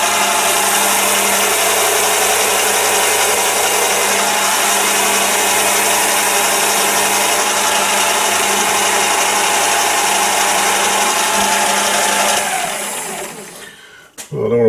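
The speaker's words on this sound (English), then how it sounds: "chamfer this outside and hit this surface with Scotch-Brite" A Scotch-Brite pad is held against a metal part spinning in a lathe, giving a steady, loud, even whir and hiss that holds unchanged for about twelve seconds before the machine spins down and stops.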